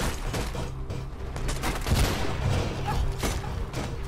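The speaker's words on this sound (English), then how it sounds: "they're on ground level shooting at me with assault rifles" Assault rifle fire in the video game Mirror's Edge sounds as a dense, continuous fusillade of overlapping shots and thumps, loud and busy throughout with no clear gaps.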